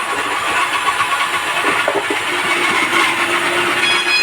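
An electric food processor runs steadily while chopping onions, a continuous loud motor whir with a faint grinding texture and no talk.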